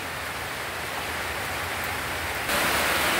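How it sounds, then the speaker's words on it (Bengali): Heavy rain pours onto a rooftop garden, a dense, steady wash of noise that swells noticeably louder near the end. "বৃষ্টিটা অনেক জোরে হচ্ছে, কারণ আমার ছাদটাও ক্লিন হয়ে যাচ্ছে"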